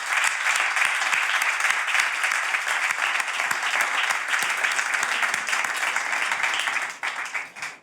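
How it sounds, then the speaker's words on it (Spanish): A club audience gives Antonio López a big welcoming round of applause, a thick, even burst of clapping that carries on loudly before fading out at the close. "Os pido recibir a Antonio López con un gran aplauso."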